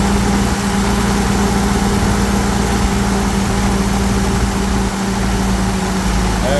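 A 1959 Willys CJ5 Jeep engine idles after its idle has been adjusted, giving a loud, steady, low mechanical rumble with a constant even throb and no talk over it.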